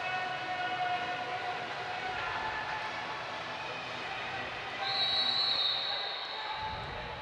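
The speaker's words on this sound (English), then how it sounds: "Final whistle." Referee's whistle at the start of a 200 m finswimming race at a beach games event, a bright sustained blast of about a second and a half standing out over steady crowd and venue noise.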